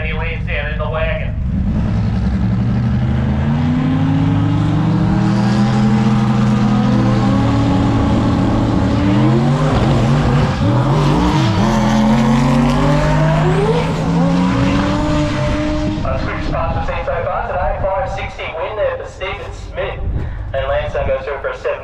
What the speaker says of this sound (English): So, Stephen Smith in the Mustang